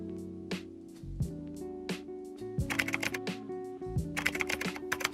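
Keys on a computer keyboard clatter as a command is typed into the command prompt, irregular near clicks that quicken into rapid runs over a steady background hum and tones, with no voice.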